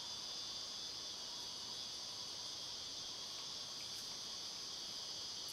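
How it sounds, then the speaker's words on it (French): Cicadas sing in a continuous, even high-pitched drone, steady and moderately distant, with no voices over it. "Et alors ça c'est une cigale."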